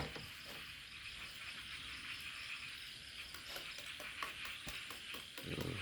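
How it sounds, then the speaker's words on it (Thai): Sizzling and crackling of paddy frogs grilling, served with papaya salad, a steady fry with scattered sharp pops and clicks growing busier toward the end. "เออปิ้งเขียดนากันนะครับ"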